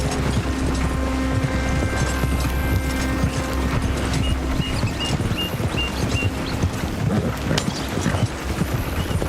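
Horse hooves clip-clop steadily in a riding video game, a continuous trotting rhythm that stays close and clear for the whole stretch, with no voices over it.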